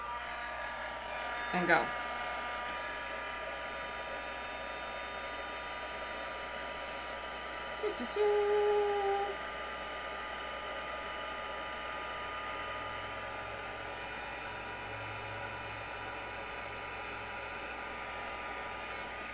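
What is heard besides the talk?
heat gun running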